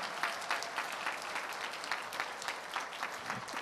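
Dense audience applause for a graduate at a graduation ceremony, steady clapping from many hands throughout with no voices on top.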